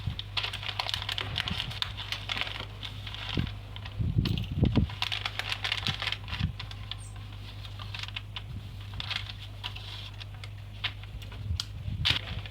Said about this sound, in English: I'm going to trim the foam, this part of the foam